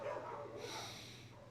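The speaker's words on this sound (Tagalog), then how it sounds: "maingay yung mga aso ng kapitbahay eh." Neighbours' dogs bark and yelp continuously at moderate loudness, a rough overlapping chorus with steady background noise and no clear talk.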